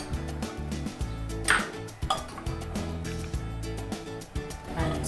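Chicken curry ingredients with grated tomatoes are stirred in a pot for Sindhi-style red chicken curry, with a spoon clinking and scraping against the metal in irregular strokes over a low, steady background hum.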